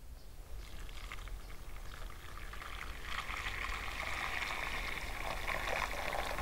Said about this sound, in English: so I'm going to pour the stock in